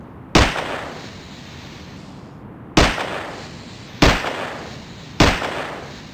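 Four sharp, loud gunshot bangs hit a swing seat in Battlefield 2, the first alone and then three more spaced about a second apart, each ringing off briefly.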